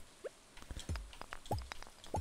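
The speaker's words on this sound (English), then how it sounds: "on this farm in the rain" Rain falling on a farm in Stardew Valley, heard as soft, sparse droplet plinks and drips in an uneven rhythm, faint and close with no talk over them.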